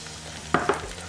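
Shallots sauté in hot bacon drippings for German potato salad, giving a faint, steady sizzle with two brief stirring clacks near the middle.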